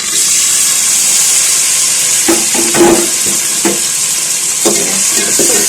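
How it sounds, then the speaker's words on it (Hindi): Chopped onions fry in hot oil with a loud, steady sizzle and hiss, close up, while a utensil scrapes and stirs the pan in a few short strokes. No one speaks. "ऑयल हमारा गर्म हो गया है। अब इसमें मैं कटी हुई 3 से 4 अदद प्याज डाल लूँगी।"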